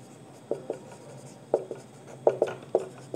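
A pen scratching on paper, with short separate strokes arriving in small groups against a quiet room background, close and fairly soft.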